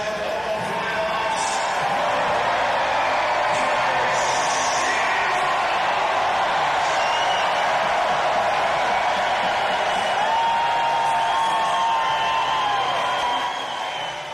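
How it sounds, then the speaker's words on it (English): A hockey arena crowd roars steadily after a Calder Cup playoff game between the Colorado Eagles and Abbotsford Canucks, a dense, loud wall of cheering and whistles sustained without a break. "Let's hear it from the crowd."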